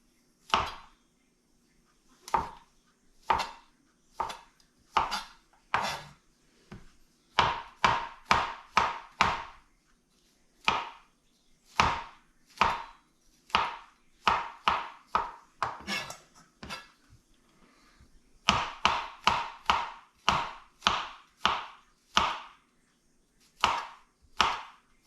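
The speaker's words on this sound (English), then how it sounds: "I want to cut them thin so that they will cook quickly." A knife chops through pizza ingredients, slicing mushrooms and similar toppings thin on a board, in a long run of sharp, close thuds, sometimes spaced and sometimes in quick bursts of five or six.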